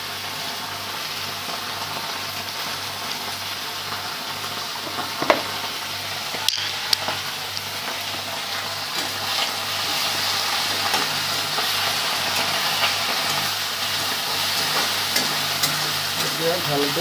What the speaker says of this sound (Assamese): এতিয়া ভালকৈ ফ্ৰাই কৰি লওক